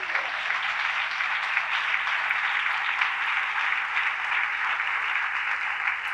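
A church congregation applauds steadily, dense clapping sustained throughout at moderate volume with no voices standing out.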